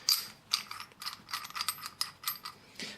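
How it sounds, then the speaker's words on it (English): A 1/2 inch BSP radiator coupler is unscrewed from a radiator valve, giving a close series of crisp, irregular metallic clicks and ratchet-like ticks with no talking. "If we remove the 1/2 inch BSP radiator coupler, this can be replaced with the 3/4 inch version."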